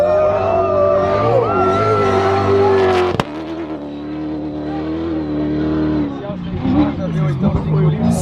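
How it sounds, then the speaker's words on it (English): A Dakar Rally race car passes close by with a loud engine roar that rises and then cuts off sharply. Excited voices and crowd cheering carry on over and after it. "here is our first car coming past"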